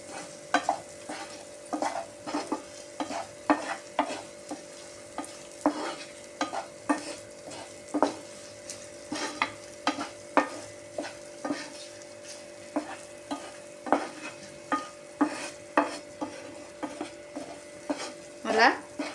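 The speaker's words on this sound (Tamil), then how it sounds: "நல்லா வதக்க வேண்டியதான்." Garlic, ginger and curry leaves sauté in a pan for prawn butter fry, under a steady soft sizzle with rhythmic stirring scrapes of a spoon repeating every second or so.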